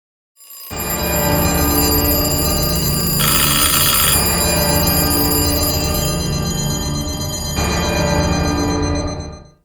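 Many clocks ticking, chiming and ringing all at once open a song, a dense, loud wash of bells and ringing alarms that starts abruptly and runs continuously with shifting layers.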